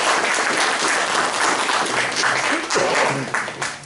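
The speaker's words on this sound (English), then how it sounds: "Let's have a big round of applause" Sustained applause from an audience at a Toastmasters club event, dense and steady clapping filling the whole stretch and tapering slightly at the end.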